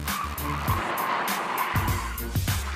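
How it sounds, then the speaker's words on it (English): A car doing a handbrake 180-degree spin-out on a driving course, tires skidding and squealing in a sustained screech with engine noise, close by and loud, no speech. "Canada's worst drivers have learned how to do a 180-degree spin-out by using their handbrake."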